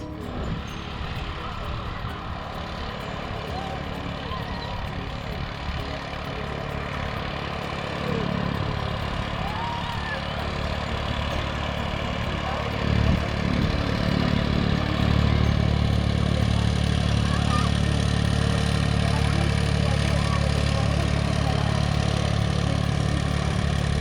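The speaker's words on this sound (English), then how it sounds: "Being pulled along on a piece of old carpet by a very old tractor." A very old tractor running on a beach in Northland, New Zealand, towing someone on a piece of old carpet: a continuous low engine drone that grows slightly louder partway through, steady throughout with no voices.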